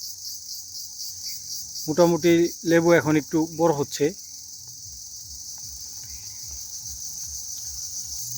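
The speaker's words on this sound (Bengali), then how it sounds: "তাহলে বুঝতে পারবেন ঝিঝি পোকা ডাকছে" Crickets chirp in a village lemon orchard after recent rain, a constant high, shrill drone throughout; someone speaks briefly in the middle, close and clear over it.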